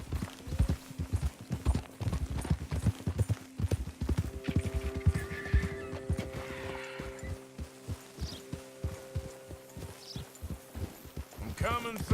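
Horse hooves clop in a steady, rhythmic gait in Red Dead Redemption 2, over sustained low humming tones, with a whinny rising near the end.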